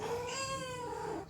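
A cat meows once, a drawn-out wavering call lasting over a second, close and clear with no talk, during an early morning ride.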